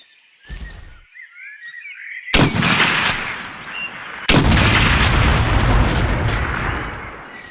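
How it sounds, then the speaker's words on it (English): Two heavy rifle shots from the video game Hidden & Dangerous Deluxe with an overhaul mod, spaced about two seconds apart like a bolt action. Each loud, close report is followed by a long rumbling tail, with a faint chirping ambience before the first. "I could have sworn this rifle was fully automatic. Yeah, it sounds like it's firing like a bolt action."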